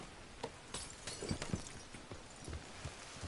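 Faint, irregular horse hoof clops on a hard surface in Red Dead Redemption 2, a loose uneven rhythm with a soft background hiss.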